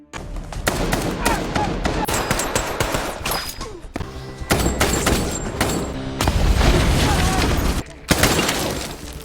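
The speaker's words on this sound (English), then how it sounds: "However, Lee takes decisive action, shooting the henchman in the head, ultimately saving Alice's life." Gunfire in an action film scene from Mile 22, loud dense bursts and shattering impacts layered over a dramatic score, with brief gaps between volleys and a sharp blast near the end.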